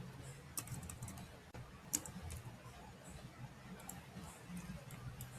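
Someone enters a value on a computer keyboard, giving faint, uneven bursts of key clicks over a low background hum.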